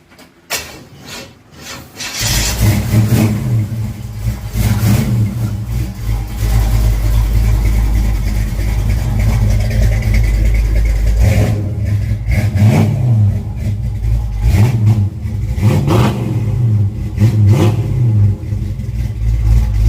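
A loud 350 V8 with a performance cam in a 1936 Chevrolet hot rod cranks, catches and settles into a lumpy, choppy idle, broken by several sharp revs that rise and fall back. No talking.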